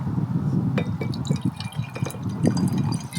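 Aperol or Campari free-poured into a glass for a spritz aboard a 58ft narrowboat: a steady trickling pour with small drips and faint glassy clinks, close by and without talk.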